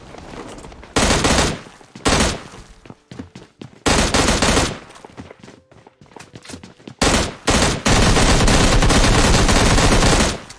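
Loud gunfire in PUBG Mobile Lite comes in repeated rapid bursts with short gaps between them. A long sustained stream of automatic fire follows near the end, with no voices.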